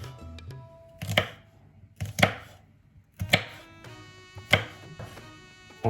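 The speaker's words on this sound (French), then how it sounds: "On prépare aussi la gousse d'ail qu'on va couper en morceaux." A knife chops a garlic clove into pieces on a board, giving five or six sharp, separate cutting thuds at roughly one-second intervals, close and clear in a quiet kitchen.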